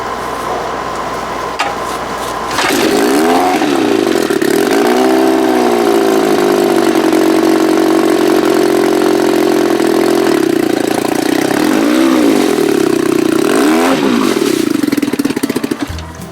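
A 1971 Johnson 20 HP outboard motor runs loud and close in a backyard between a fence and an RV, starting with a roar and holding a steady, buzzing drone with occasional small rises in pitch.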